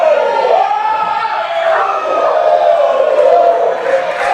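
A wrestling crowd roars continuously at a DKW indie show, a dense, sustained wall of cheering and yelling with shifting tonal shouts, loud and close throughout without pause.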